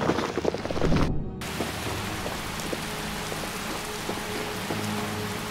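Steady rain falls in the Skyrim video game, a continuous soft patter across the whole stretch, with faint scattered drops and no talking after a brief opening burst of other sound.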